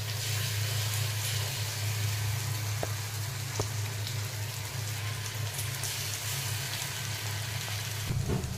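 Onions frying steadily in a pan as ground mustard-poppy spice paste goes in for a pomfret fish curry, a continuous loud sizzle with a low hum underneath and no talking.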